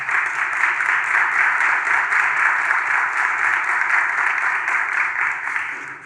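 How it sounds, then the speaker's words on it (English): Sustained audience applause at a community summit after a speaker's remarks, even, continuous clapping from a large crowd that carries on for several seconds with no talk over it. "give her another round of applause"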